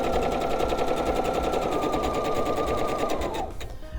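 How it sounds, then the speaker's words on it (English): A sewing machine stitching a quilt block: a close, steady, rapid mechanical whir of stitches that runs continuously, then stops abruptly near the end. "I sewed 2 or 3 stitches, but not much, just a couple stitches beyond, without raising the presser foot"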